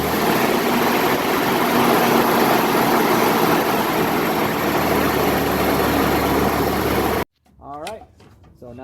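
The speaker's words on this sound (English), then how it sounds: "now that we got the engine running" A first-generation Toyota Tacoma V6 engine idles with a loud, steady broadband rumble for about seven seconds before cutting off abruptly, after which a person speaks.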